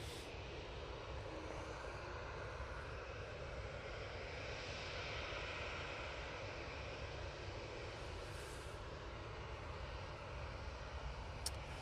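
Ryanair airliner at Manchester Airport heading off to Porto, a steady broadband engine roar heard from a distance and holding even throughout.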